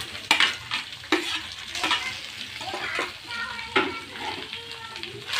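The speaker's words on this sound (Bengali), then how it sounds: "ভেজে রাখা সবজিটা মশলার সঙ্গে ভালো করে মিশিয়ে নেব" Spatula scrapes and clatters as fried vegetables are stirred with ginger paste and spices in a pan, irregular strokes over a soft sizzle with faint voices in the background.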